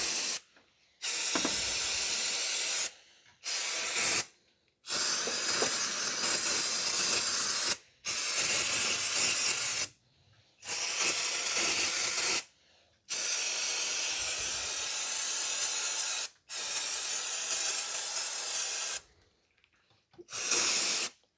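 A pressure spray washes down engine parts on a 2009 Subaru Impreza 2.5 SOHC EJ253 during a timing belt service: repeated loud hissing bursts of a few seconds each, separated by short silences.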